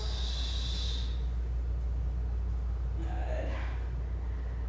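Breathing during a mat Pilates roll-up: a soft, airy breath early on, then a brief second inhale-exhale a few seconds later, close and quiet over a steady low room hum.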